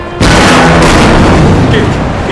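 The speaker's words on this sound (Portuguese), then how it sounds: "Explosão!" A sudden, very loud explosion from planted explosives in the video game Call of Duty bursts in and keeps roaring with heavy rumbling debris for a couple of seconds.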